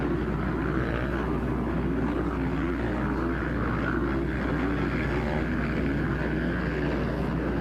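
Junior 65cc motocross bikes, including a Husqvarna, race past on the Loretta Lynn's track: a continuous loud, droning engine roar that holds steady and close from start to finish.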